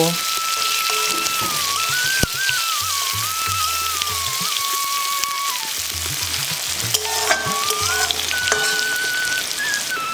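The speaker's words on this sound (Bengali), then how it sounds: "এবারে নাড়াচাড়া করে কিছুক্ষণ ভেজে নেব" Nigella seeds, five or six garlic cloves, one chopped onion and five or six slit green chilies fry in hot oil with a steady, close sizzle and occasional stirring, over faint background music.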